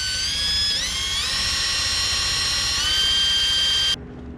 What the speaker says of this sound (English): So what I'm gonna do is I'm gonna drill this cap out, remove it, and we're gonna adjust that screw in there.